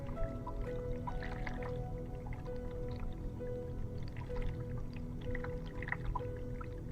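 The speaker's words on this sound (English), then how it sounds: "Okay, we have running water, baby!" Running water from a tap in the horror puzzle game Asylum, a steady close trickle with drips over a constant low ambient hum, no talk.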